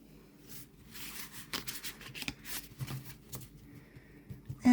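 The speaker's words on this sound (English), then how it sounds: "And let's see how they do as a riffle shuffle." Winter Magic tarot cards riffle-shuffled by hand, a run of quick papery flutters and soft slaps in bursts, close and fairly quiet, ending with a sharper snap.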